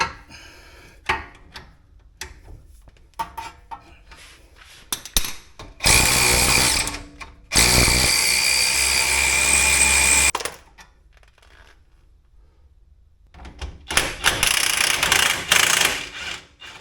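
A power tool loosens suspension screws on a 2012 Acura TSX Special Edition. Several loud, sustained whirring bursts run for a few seconds each, with quiet clicks and clunks of handling between them.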